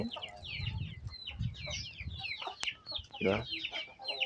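A hen clucks softly and repeatedly while feeding, with chicks close by and faint rustling and pecking in a rural yard, and a voice murmurs now and then.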